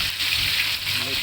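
Pork lechon kawali deep frying in a pan, a steady dense hiss of bubbling oil filling the air, loud and close, with faint low background sounds underneath.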